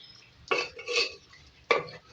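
A ladle stirs and scrapes bhuna aloo chicken with garam masala in a pot, two distinct mixing strokes with clinks of utensil on metal, close and moderately loud with no voices.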